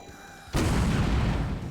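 Explosion in the video game Grandia II, a sudden loud booming blast after a quiet moment, its heavy rumble sustaining to the end.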